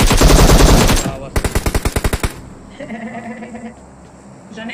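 Loud automatic gunfire in the mobile battle royale game PUBG Mobile: a dense burst followed by a rapid run of about a dozen evenly spaced shots, then quieter game ambience.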